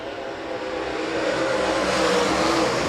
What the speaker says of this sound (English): Luke Sadoff, your race leader, as we head back green flag racing next time